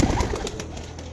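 Pigeons at a loft coo in soft, low, repeated throaty calls, close by and continuous over a faint background.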